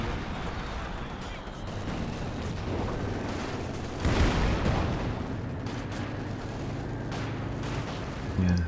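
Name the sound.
machine gun fire in a war video game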